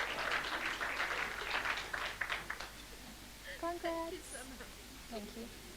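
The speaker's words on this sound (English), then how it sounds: "Round of applause for Bradley for sitting in the right spot." An audience at a book launch in Sandton, Johannesburg, gives a short round of applause, clapping for about two seconds before it fades into quieter room sounds and brief voices.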